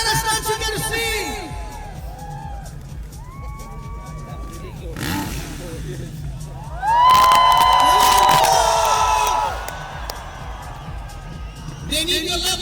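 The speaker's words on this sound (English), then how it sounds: "You need to be cheering louder." Crowd cheering, whooping and shouting at a freestyle motocross show in Kochi, rising into a loud, sustained roar midway before settling back, with an announcer's voice heard over the noise.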